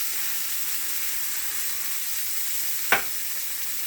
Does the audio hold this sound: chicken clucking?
no